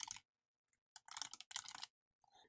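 Bursts of typing on a computer keyboard while completing a shape in a PowerPoint 2016 exercise, several quick clusters of close key clicks separated by short silences, with no one talking.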